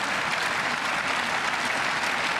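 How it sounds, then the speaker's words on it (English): Impatient crowd clapping in the arena during a Paralympic women's individual BC2 boccia final, a dense continuous wash of applause throughout with no breaks. "Crowd now getting a little impatient."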